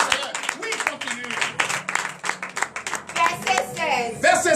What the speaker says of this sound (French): Pourquoi ne pas encore donner de vivre acclamation au Seigneur?